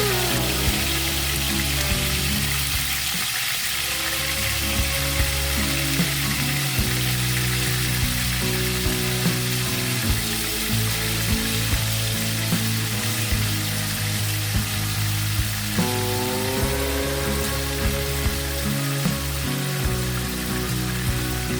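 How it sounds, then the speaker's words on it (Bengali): Marinated chicken pieces fry in hot refined oil in a nonstick kadai, a loud, dense, steady sizzle with crackling spatter running throughout, no voices. "তেল গরম হলে মেখে রাখা চিকেনের টুকরোগুলো এক এক করে দিয়ে এপিট ওপিট"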